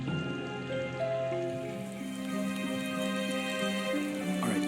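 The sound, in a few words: rain in video game Nancy Drew: Midnight in Salem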